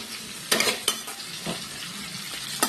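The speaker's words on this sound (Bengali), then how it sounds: "পেঁয়াজটা তো তখন লাল লাল করে ভাজা হতে থাক" Onions fry in a pan under a constant, moderate sizzle, with a few sharp clinks and scrapes as a spoon stirs against the metal.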